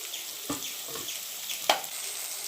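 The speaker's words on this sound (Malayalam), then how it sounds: "ഇനി നമുക്കിത് ഫ്രൈ ചെയ്തെടുക്കാം" Chicken frying in a pan on medium flame makes a soft, steady sizzle, broken by a few brief pops and spatters.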